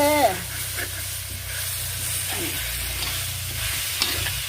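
Spicy pork, including pork ear, is stir-fried in a pan with a close, steady sizzle and busy stirring scrapes. A brief vocal sound is heard at the start.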